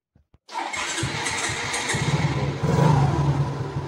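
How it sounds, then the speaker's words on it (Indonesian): After a couple of clicks, a motorcycle starter cranks with a rapid whirring churn, and the engine catches and rumbles louder near the end. "Sekarang kita siap mau mengetes starter dari sepeda motor ini"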